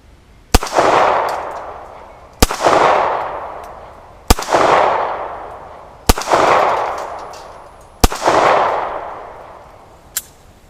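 Five widely spaced 9mm pistol shots at an outdoor range, each a loud sharp crack with a ringing tail off a half-inch AR500 steel plate, followed by a fainter final tap.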